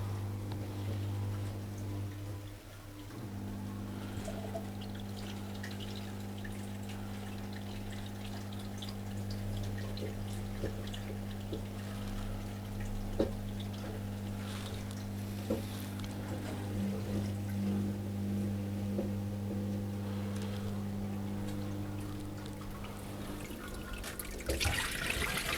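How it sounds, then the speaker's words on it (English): A Dyson CR01 washing machine agitating a cotton 30 load while its pump drains water, a steady low motor hum with continuous watery churning throughout. "it's been agitating as it's been draining or pumping out the water"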